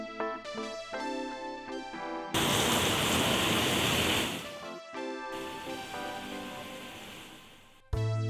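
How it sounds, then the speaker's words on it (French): Steady rain drums hard on a conservatory-style veranda roof, a loud broadband hiss running about two and a half seconds between stretches of music before dropping back. "Le bruit de la pluie est alors très nettement atténué."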